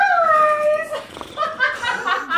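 A dog howls in long, rising and falling tones at close range, then breaks into shorter yelps and whines, with faint human voices mixed in near the end.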